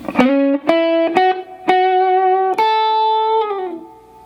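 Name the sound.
first lick of guitar solo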